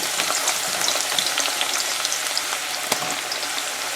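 Onions sizzling in hot oil for a Ghana-style tomato stew, a steady bright crackle and hiss with scattered popping spits, close and continuous with no voices.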